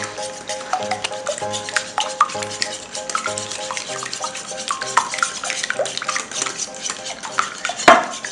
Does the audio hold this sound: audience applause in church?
no